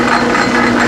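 A metal lathe running slowly in back gear makes a loud, close, steady mechanical hum with a gentle rhythmic ticking pulse from the gears, and there are no voices.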